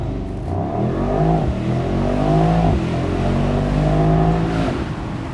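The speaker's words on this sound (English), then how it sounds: "left foot on the brake all the way down, gas and go." A 2023 Mercedes-AMG SL63 launches hard under launch control, its engine loud and close as it revs up through the gears, with quick drops in pitch at each shift; no one speaks.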